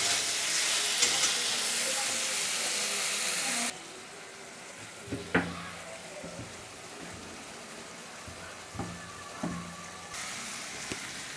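Potatoes with spices are stirred in a pan with a splash of water: a loud hissing sizzle drops abruptly to a quieter simmer, punctuated by several spoon scrapes and clinks.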